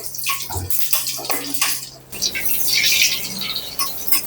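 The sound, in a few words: hot five-spice tempering poured into dal, sizzling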